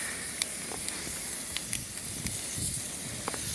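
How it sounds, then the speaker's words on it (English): A ribeye steak sizzles steadily inside a wood-fired pizza oven, a soft continuous hiss dotted with faint crackles and pops. "Oh, if you could hear that sizzle."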